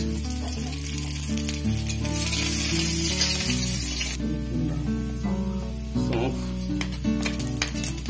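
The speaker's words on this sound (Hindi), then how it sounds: "ये सारे मसाले हमने फ्राई में डाल दिए हैं।" Garlic, fennel and carom seeds with other spices sizzle steadily in hot oil on a stove while raw mango chutney is cooked, a continuous frying hiss running beneath background music.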